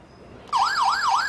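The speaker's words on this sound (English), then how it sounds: "So as you see, alarm is triggered and you receive the push notification immediately." An OUSKI X10 WiFi/GSM smart alarm sounds its siren after a door magnetic contact opens, a sudden loud electronic wail that sweeps rapidly up and down in an even repeating cycle, close and continuous after a quiet start.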